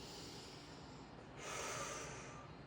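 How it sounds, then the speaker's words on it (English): A person takes slow breaths in through the nose during gentle movement exercises, a soft close airy rush that swells midway and fades. "Nose breaths."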